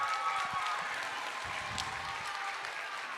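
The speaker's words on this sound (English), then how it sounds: "Let's give her a round of applause." A school audience applauds a retiring preschool and kindergarten teacher at an elementary end-of-year awards ceremony, steady distant clapping spread across the whole stretch at an even level.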